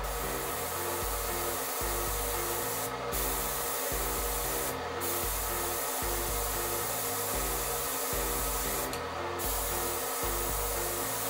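An airbrush sprays black paint from a quiet compressor, too much paint giving a crackly, scratchy hiss, with steady continuous spraying and a few brief bright bursts over a low rumbling background.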